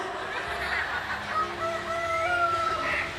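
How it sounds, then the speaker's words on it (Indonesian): A rooster crows in a long drawn-out call over steady background noise, sounding somewhat distant. "Itu suara ayam beneran atau handphone?"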